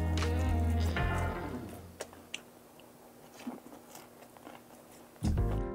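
Crunchy Korean-style fried meat tempura is bitten with a sharp crunch, followed by quieter close chewing and a few crackles, with louder muffled rustling at the start and end.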